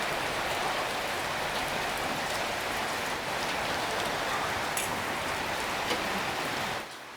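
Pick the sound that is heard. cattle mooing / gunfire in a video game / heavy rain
heavy rain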